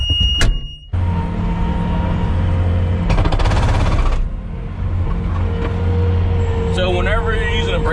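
A hydraulic breaker hammer on an excavator pounds for about a second in a loud rattling burst, surrounded by a steady engine drone and a brief voice.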